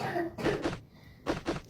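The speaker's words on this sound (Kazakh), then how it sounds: "Тамағым ауырып қалған менің жөтелген едім." A person with a sore throat coughs several times in short bursts, close and fairly quiet, with a brief pause between two pairs of coughs.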